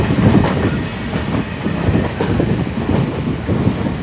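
A train hauled by an Asansol-shed locomotive rolls around a sweeping curve near Phephna Junction. Its steady, loud rumble and clatter of wheels on rail run throughout, with no voices.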